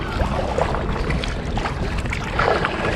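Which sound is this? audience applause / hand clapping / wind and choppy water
wind and choppy water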